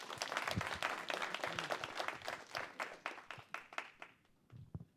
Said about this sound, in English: Let's hear it for Tim. Applause.